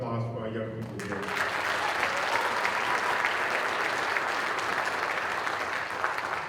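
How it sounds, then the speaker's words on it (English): A crowd at a Martin Luther King Day gathering claps for young people, a voice briefly heard at the start before steady, full applause takes over and holds. "let's give a round of applause for our young people here."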